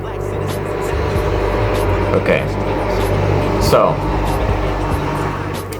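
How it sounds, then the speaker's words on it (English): A car drives past outdoors, a low continuous engine rumble that swells slightly and fades, heard beneath someone talking. "I don't know why this guy decided to drive this car right now"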